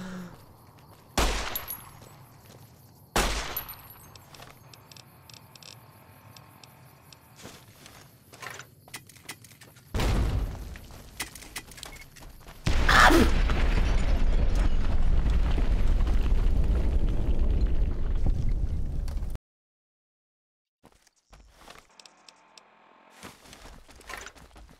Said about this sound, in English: Help me, there's a super mutant out here! He's throwing grenades!